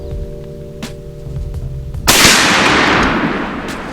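A Winchester Model 37a shotgun fires a single slug midway through, a sharp, loud close blast with a decaying echo after a quiet outdoor lead-in.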